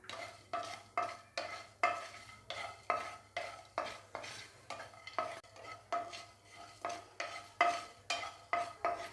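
Vegetables and spices for a capsicum gravy fry in a pan under a spoon, with rhythmic scraping stirs about twice a second over a low, even sizzle, close and without any talk.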